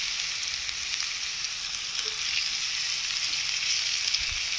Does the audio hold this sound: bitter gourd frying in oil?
yes